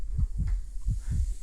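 A low, dull heartbeat thuds in paired beats, four soft pulses in quick rhythm, muffled and close over a faint hum, serving as a sound effect in a retelling of Poe's The Tell-Tale Heart.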